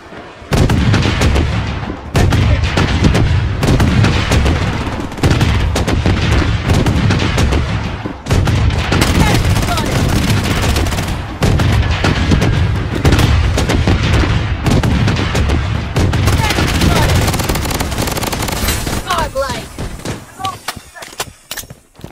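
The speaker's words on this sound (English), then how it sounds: "Missile bombardment on its way." Missile bombardment in the shooter game Blood Strike: a dense, sustained barrage of loud booming blasts and gunfire rolling on for about twenty seconds, thinning into scattered cracks near the end.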